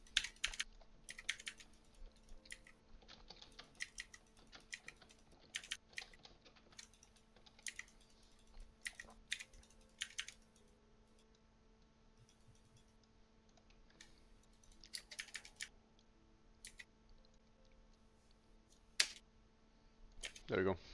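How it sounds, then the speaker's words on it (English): Typing on a computer keyboard, with quiet, irregular bursts of clicking keystrokes spread across a long stretch, some louder clacks standing out over a low background hum. "If it's the right keyboard, it's enjoyable to listen to."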